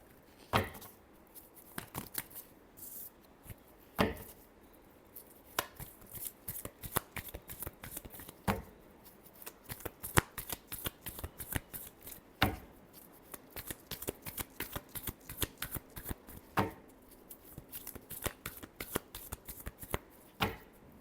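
Tarot cards shuffled by hand in a quiet room, a steady run of close, crisp riffling and flicking bursts with a few sharper slaps, no talking.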